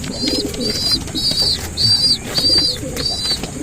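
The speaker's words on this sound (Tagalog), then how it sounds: "Yung young bird na yan, parang ikakarera natin yan sa Bicol" A young racing pigeon calls in a steady series of about six evenly spaced, repeated coos, fairly close, over a faint background murmur.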